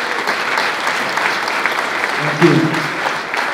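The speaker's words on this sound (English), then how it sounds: "First of all, big round of applause for someone that's given us brilliant entertainment for many years." A boxing crowd in Liverpool gives a warm round of applause for a Commonwealth lightweight title challenger, with steady clapping throughout while someone speaks briefly over it.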